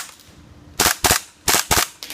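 KWA Kriss Vector airsoft gun fired in two-round bursts: two paired sharp snapping shots, close and loud, with a fainter final crack at the end, over quiet background hiss.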